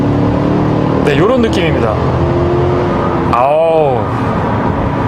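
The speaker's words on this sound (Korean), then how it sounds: "배기음도 정말 매력적인데요. 터널 안에서 한번 킥다운 해보면은요" A 2021 Cadillac Escalade Sport Platinum V8 under kickdown in a tunnel gives a deep, steady exhaust drone with rising engine harmonics, while someone talks over it throughout.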